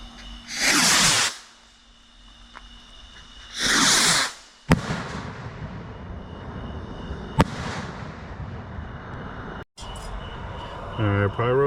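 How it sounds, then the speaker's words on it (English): Two Rocket Man Salute firework rockets launch outdoors, each with a loud rushing whoosh lasting about a second, followed by sharp cracking salute bangs, one faint and one louder, over a background of steady hiss and wind. "We're going to demo these two Rocket Man Salute rockets."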